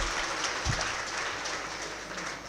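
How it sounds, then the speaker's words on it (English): An audience applauds at a public university lecture, with dense, continuous clapping filling the room, loud at first and easing slightly toward the end. "Give a round of applause,"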